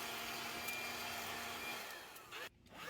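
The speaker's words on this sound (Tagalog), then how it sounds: "Gwapo ni nga vacuum ni." A vacuum cleaner runs steadily at close range with a broad whooshing roar while it sucks up dust. The pitch shifts slightly near the end, then a brief drop, as the nozzle seems to catch debris.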